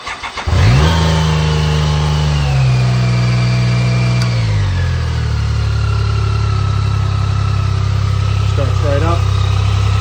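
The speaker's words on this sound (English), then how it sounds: "So I'm gonna go and I'm gonna start her up" A 1991 BMW K75 motorcycle cranks and fires, briefly revs, then settles into a steady, loud, close idle that runs to the end.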